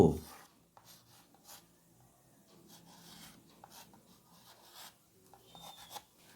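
A pen scratching and rubbing across paper while a Bengali word is handwritten, in soft, irregular strokes with brief pauses, faint and close, preceded by a short bump.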